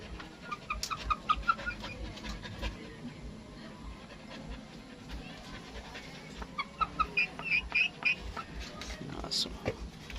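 Two backyard chickens cluck in short bursts over a noisy outdoor background, with a dog panting and barking nearby.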